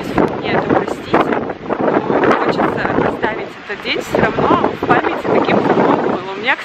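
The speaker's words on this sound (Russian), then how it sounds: "А сейчас идет дождь." Wind and rain buffet a microphone outdoors on the shore of the Vuoksa river on a cold day, a steady rushing gust noise running throughout under continuous talk.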